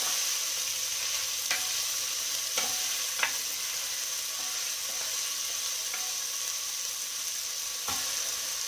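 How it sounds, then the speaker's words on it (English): Greens sautéing in a pan as part of a home-cooked tomato chicken curry meal, a steady close sizzle throughout with occasional scraping stir clicks and utensil taps, no voices. "We're going to saute these until they're, a nice chestnut looking brown"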